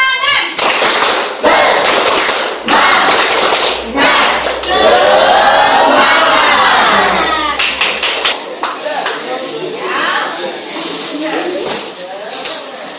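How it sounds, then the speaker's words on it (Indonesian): A school class claps in quick rhythmic patterns, sharp hand slaps in bursts, while many voices chant and call out together in Indonesian. "Sekali lagi, tepuk semangat."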